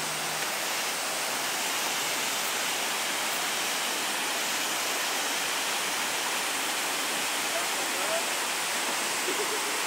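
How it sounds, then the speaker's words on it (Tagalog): Steady broadband rush of water pouring over Wawa Dam in Montalban, Rizal, with a light flow, a continuous even wash filling the whole scene without pause. "Wawa Dam sa Montalban, Rizal. Kaso, konti ang tubig. mahina ang tubig."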